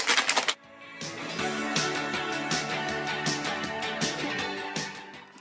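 A drink mixer being shaken with fresh lime juice inside, giving a steady rattling, clicking rhythm that runs for several seconds after a brief louder burst at the start, with no talk over it.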